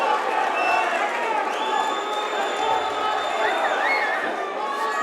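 Boxing crowd at the Salon Mezzanine roaring and cheering on its feet as a fight breaks out, a dense, steady wall of voices with whistles and shouts running throughout, under a commentator's talk.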